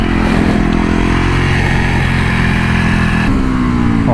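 A supermoto motorcycle engine pulls hard under acceleration, a loud close mid-pitched roar with rising revs and a gear change near the end, with no voices.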